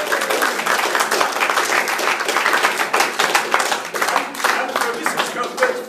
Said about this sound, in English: Round of applause for Cuthbert